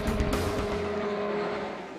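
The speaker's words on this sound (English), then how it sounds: "Patrick pushes the old car towards the lead" An old race car at the Nürburgring 24 Hours roars past in one loud burst of engine noise. The tone drops and fades as the car pulls away.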